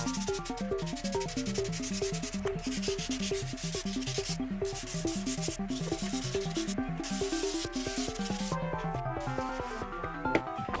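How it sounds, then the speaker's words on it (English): Epoxy on a black walnut and antler wall clock is sanded with progressively finer grit sandpaper, giving a steady, continuous rasping rub under loud background music throughout. "now I'm just focusing on working my way up on finer grits to polish this epoxy."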